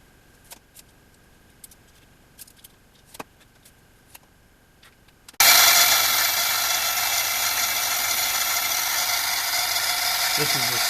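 A power drill fitted with a 5/16 bit bores through a layer of a neck jig, starting abruptly after a few faint ticks and clicks, then running as a loud, steady close-up whir to the end.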